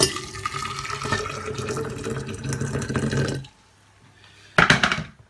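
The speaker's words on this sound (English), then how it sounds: "we'll put our body into our glass jar, add some boiling water" Boiling water pours steadily into a glass jar for a few seconds, stops briefly, then a short louder splash of liquid follows.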